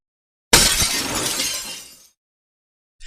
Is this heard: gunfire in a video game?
no